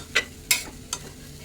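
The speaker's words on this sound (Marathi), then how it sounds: "चांगलं परतून घ्यायचं आतमध्ये भाजी" Ghevda bean vegetable stir-fried in a pan: a low sizzle beneath four sharp, evenly spaced scraping strokes of a spatula, close and clear with no talking.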